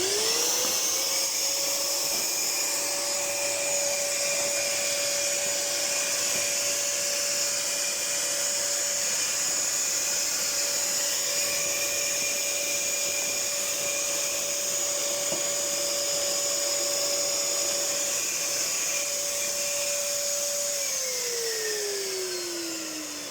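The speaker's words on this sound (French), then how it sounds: "il est temps d'aller passer l'aspirateur derrière" A vacuum cleaner runs steadily behind a switched-off pellet stove, a loud continuous whine with a tonal hum that holds for about twenty seconds before winding down at the end.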